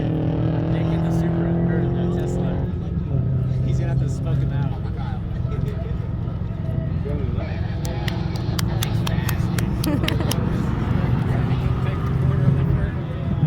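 A 2024 Tesla Model 3 Performance racing in circle drags at Pikes Peak International Raceway, giving a steady electric whine and road roar under continuous commentary, with a burst of sharp ticks partway through.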